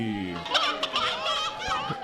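A turkey gobbles at a costumed wrestling show event, sounding as a rapid warbling call that carries on for about two seconds at moderate volume.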